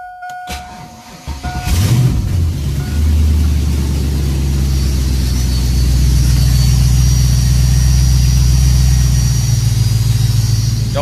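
A car fitted with a newly built exhaust and a loud fuel pump cranks briefly and catches. It settles into a loud, steady, deep idle that stays close and continuous, with no talking.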